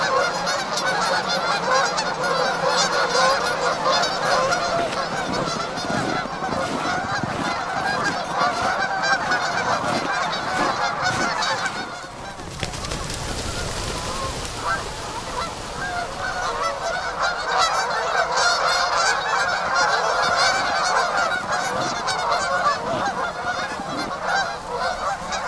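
Thousands of geese crowding the last open water along a river, an unbroken wall of overlapping honks that briefly dips and turns noisy midway, as if disturbed, before the dense chorus swells back.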